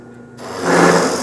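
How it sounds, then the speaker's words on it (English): A plug cutter bit in a drill whirs up and bites into a wood workpiece, the tone swelling from quiet to a loud close grinding whine within about a second, no voices present. "You can cut plugs pretty quickly. Just hold the workpiece, plunge in the cutter, withdraw the cutter, shift the workpiece,"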